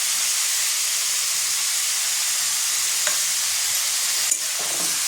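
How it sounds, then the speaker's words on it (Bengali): Mutton for Kashmiri rogan josh sizzles steadily in oil in a pan, with a continuous loud frying hiss and a couple of brief scrapes of stirring near the end, no voices. "মাংসটা আমি একটু ভাজা ভাজা করে নেব"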